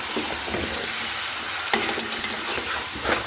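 Beef pieces fry in ghee in a pot over a low flame, a continuous close sizzle broken by several sharp scraping stir strokes and clatters, with no talk.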